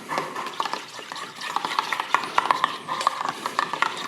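Burger sauce made of mayonnaise, ketchup and relish is stirred in a bowl: quick, close clinks and scrapes of a utensil in an uneven rhythm, with no talking.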